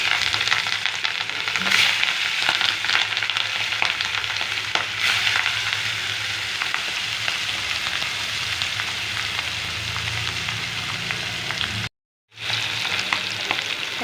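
Fish frying in smoking hot oil in a wok gives a continuous loud sizzle with stirring scrapes throughout, close and steady, with one brief dropout near the end and no talk.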